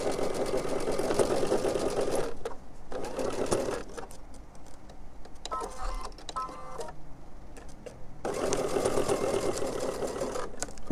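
A sewing machine restitches fabric in short bursts of rapid mechanical chatter, running, stopping for a quiet pause with faint handling sounds, then starting again.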